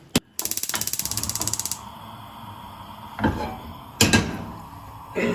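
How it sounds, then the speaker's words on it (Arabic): A gas stove burner being lit: a sharp click, then a rapid ratcheting tick of the igniter, followed by a few soft knocks and rustles up close. "نخش على النار."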